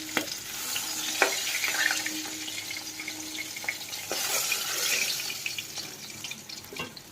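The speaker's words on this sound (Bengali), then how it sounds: "মাছ ভাজাও মোটামুটি করা হয়ে গেছে। একটু কড়া করেই ভাজছি" Pieces of rohu fish fry crisp in hot oil, giving a continuous close sizzle punctuated by stirring scrapes and a few clinks.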